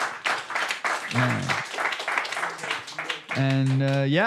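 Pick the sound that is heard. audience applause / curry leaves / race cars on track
audience applause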